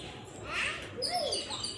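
A sparrow gives a couple of faint, short chirps and a rising-falling call over quiet background hiss, with a hint of nearby voices.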